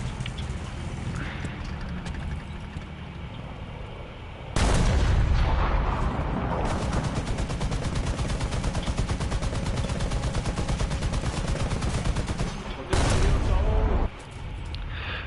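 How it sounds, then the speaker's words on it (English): Loud, dense bursts of rapid video game gunfire from a gun salute at the end of a match, pounding almost continuously for about ten seconds, with voices talking before and after. "Gun salute!"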